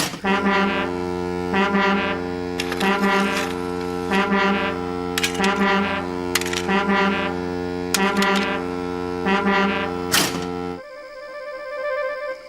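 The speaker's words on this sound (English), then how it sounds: "It's a new invention, a railway foghorn, said the Fat Controller." A deep, loud railway foghorn on a model train layout sounds in repeated short blasts with brief gaps, a steady droning tone that cuts off abruptly near the end.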